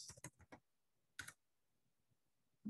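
Someone types on a computer keyboard while programming in PHP, a quick cluster of close, sharp key clicks, then a single pause and another short burst, with a low murmur near the end.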